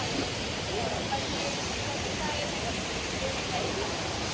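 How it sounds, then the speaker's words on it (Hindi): A small waterfall in the Nongriat forest rushes with a constant broadband roar, steady and close, filling the whole stretch without a break. "और यहाँ पे छोटा सा वाटरफॉल है"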